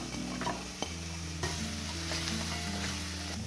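Vegetables stir-fried with a salt-free natural curry spice mix sizzle steadily in a pan, with stirring scrapes and a few clinks, close and moderately quiet, no talk.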